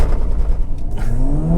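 A 2024 Acura Integra Type S engine revs to about 3,000 rpm at a standstill, a loud, close rising drone whose pitch climbs steadily through the second half with no talk over it.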